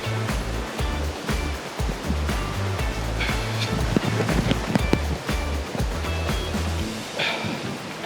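Water rushing and splashing at the bottom of a bush swimming hole near Belmont, Wellington, a loud, steady broadband roar of flowing water throughout, with no talk.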